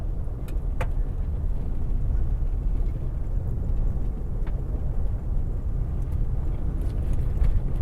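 Interior road noise from a car cruising a coastal highway south of San Juan del Sur, Nicaragua: a steady low rumble of tires and engine with faint occasional ticks, no talking.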